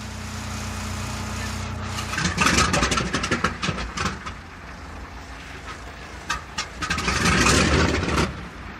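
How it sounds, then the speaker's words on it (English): Piston engines of the B-29 bomber Kee Bird crank and catch, rising from a low rumble into loud, uneven running with sputtering bursts and revving swells, heard from fairly close. "After a week of work, the engines are running smoothly and the oil leaks have been eliminated."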